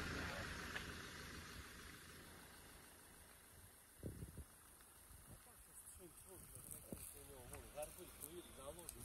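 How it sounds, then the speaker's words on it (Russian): An International 9400 truck engine idling, a low steady rumble running underneath while someone talks nearby, with a few clunks and movement noises. "Что-то я не заглушил."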